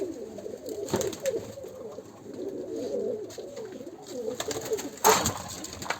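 Miro pigeons coo in a coop in a steady, low murmuring chorus, with a few louder flutters and rustles breaking in near the end.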